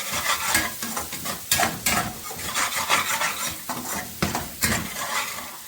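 Asafoetida drops into hot oil, and the pan sizzles strongly while a spoon stirs in quick repeated scrapes and clinks, loud and close, with no talking.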